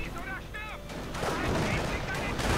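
Machine gun fire in a World War II strategy video game plays as a distant, repeated rattle of bursts mixed with other battle effects and short whistling tones, with no one talking.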